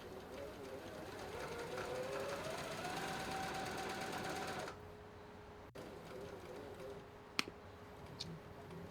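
A sewing machine mechanism runs at speed under motor control, giving a steady mechanical whir and rapid ticking that holds for several seconds, then drops to a quieter run broken by a few sharp clicks.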